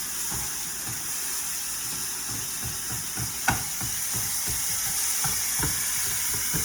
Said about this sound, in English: make sure to take your spatula and kind of chop it up